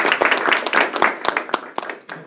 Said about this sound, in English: please join me in an applause for Fuad